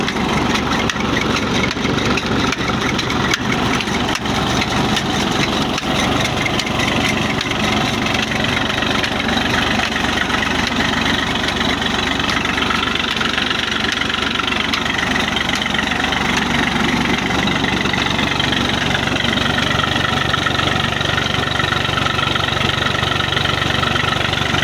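Old 1988 Massey Ferguson 240 tractor engine idling up close, a loud, steady diesel chug with constant mechanical vibration for the whole stretch, holding an even pace with a slight shift in tone late on.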